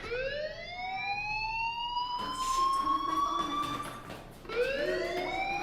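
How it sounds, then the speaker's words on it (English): A fire alarm wails in the video game Life is Strange, a loud rising electronic siren tone that climbs and holds, drops briefly, then starts rising again, with a burst of background noise partway through. "Do you hear that fire alarm?"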